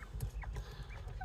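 A group of young northern bobwhite quail mixed with Red Tennessee quail give short, high chirps and peeps in quick, irregular succession, close by over a low background rumble.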